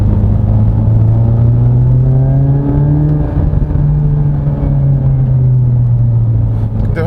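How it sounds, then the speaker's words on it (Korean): A 2022 Hyundai Elantra N with its active sound design set to TCR mode drones steadily during city driving, the engine note swelling slightly as revs climb. It stays loud and close throughout, with a whirring high tone over a deep rumble. "엔진의 RPM이 올라가면 올라갈수록 이 고주파음이 조금 더 잘 들립니다"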